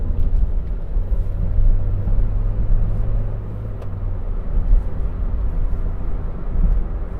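A car pulls away and builds speed on a public road during a driving lesson, its steady low engine drone and road rumble continuous and fairly loud throughout with no talking.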